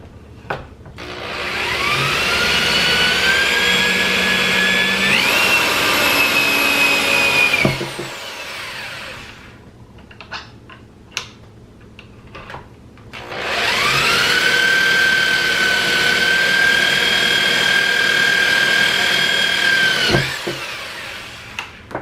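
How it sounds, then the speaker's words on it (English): A power drill runs loudly in two long bursts, drilling holes in a Browning Hi-Power pistol frame, each spinning up to a steady high whine, with quieter handling noises in the pause between. "drill our final two holes."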